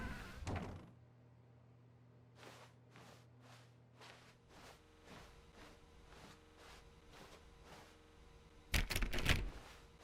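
A door in The Stanley Parable, heard as a quiet series of soft thunks and clacks spaced a second or so apart, followed by a louder burst of knocking impacts near the end.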